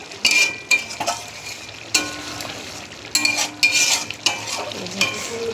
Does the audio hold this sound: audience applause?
no